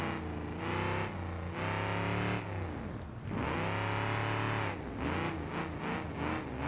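Crown Victoria engine in the BeamNG driving game, exhaust routed out the roof, roaring loudly in long revving bursts with brief dips between them, then quicker choppy pulses near the end.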